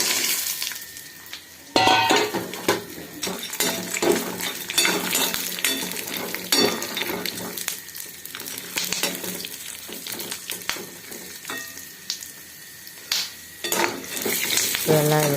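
Dry fruits frying in ghee in a pan for laddu, a steady close sizzle broken by repeated clinks and scrapes of a spoon stirring against the metal pan, with no talking.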